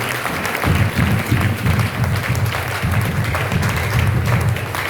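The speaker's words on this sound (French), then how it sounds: "Est-ce qu'on peut encore acclamer pour notre Seigneur?" Church congregation applauding for the Lord, steady rhythmic group clapping filling the room, close and sustained throughout.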